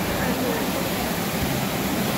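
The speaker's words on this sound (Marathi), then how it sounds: "हे आडोशीमध्ये हे धबधबा आहे." Waterfall at Adoshi near Khopoli, heard as a steady, dense rushing roar that holds constant and fairly loud throughout, with no pauses or breaks.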